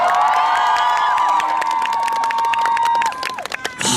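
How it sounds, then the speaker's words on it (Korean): A crowd at an army ground forces festival performance applauds and cheers loudly together for the performers, with sustained tonal ringing over dense clapping that thins near the end. "열심히 연주해주신 우리 장명님들께 큰 박수 부탁드립니다"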